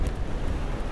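Steady wind gusts over open water on a choppy, somewhat windy day out fishing in a small boat, a continuous low rushing roar with buffeting noise on the microphone.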